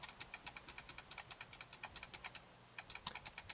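Rapid, crisp plastic clicks from the small clicky knob on a Sega Saturn controller, repeated steadily over a few seconds, close and fairly quiet with no talking.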